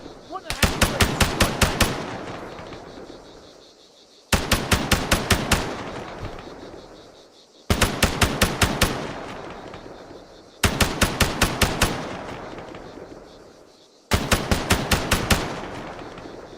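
Automatic weapon fire in the Arma 3 military shooter, five loud, close bursts of rapid shots spaced a few seconds apart, each burst trailing off in a long echoing decay across open terrain.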